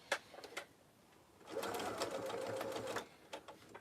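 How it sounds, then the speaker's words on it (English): A sewing machine stitches a tote bag, including a backstitch, running steadily for about a second and a half after a few short bursts, close and fairly loud, with faint speech at the edges. "And definitely backstitch so that you have a nice secure bit of stitching here."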